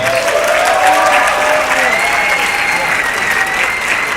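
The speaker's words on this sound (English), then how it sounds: "Another big round of applause, please." Sustained applause from a large rally audience honoring Angela Davis, dense and steady throughout with voices calling out over the clapping.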